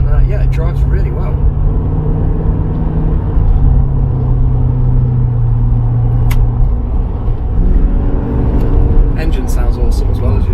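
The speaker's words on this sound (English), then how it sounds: "Engine sounds awesome as well, as you'd expect. Nice throaty V8." A 1978 Porsche 928 with a V8 engine is being driven, its low, throaty drone steady and close from inside the cabin. Someone talks over the engine throughout.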